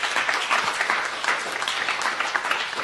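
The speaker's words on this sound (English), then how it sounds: "Can I just get one more round of applause for everyone that's out here?" Audience applause at an Immigrant Heritage Month story slam in Philadelphia, a dense, steady wash of clapping filling the whole stretch without letup.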